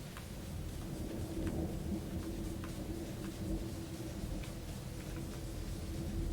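A steady thunderstorm from Stardew Valley plays throughout, with continuous rain and a low rumble of thunder, even and fairly quiet, with no voices.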